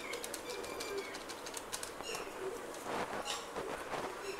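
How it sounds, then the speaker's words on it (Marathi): Birds chirp and flutter outside a home kitchen, a busy layer of bright calls and wing flaps running steadily through the whole stretch at moderate distance, with no talk over it. "बाहेर पक्ष्यांचा आवाज येतो तो इग्नोर करा।"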